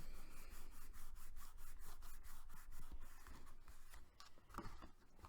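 Paper being burnished flat onto a Halloween craft project, a steady run of close, repeated rubbing strokes with a dry, scratchy texture that eases off near the end.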